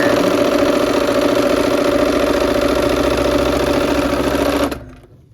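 A sewing machine stitches rows of a quilt in a loud, steady, fast mechanical whir that runs without a break, then stops abruptly just before the end.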